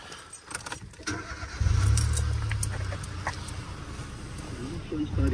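A car engine cranks and catches after an ignition coil replacement, running with a loud, steady low rumble that settles into an idle, with brief jangling of keys just before it fires.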